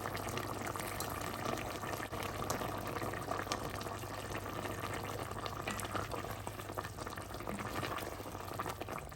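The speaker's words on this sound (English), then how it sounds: "Did you hear those bubbles coming through?" Chicken and green peas stew boils in a pot with a steady bubbling simmer, soft and continuous, and faint pops throughout.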